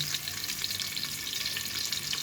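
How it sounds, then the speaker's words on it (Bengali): Spices and ground ginger, garlic, onion and nut paste sizzle steadily in hot oil and ghee in a pot, a dense continuous crackle with no voices. "তেল এবং ঘি দিয়ে দিয়েছি এটা ভেজে নেব আগে"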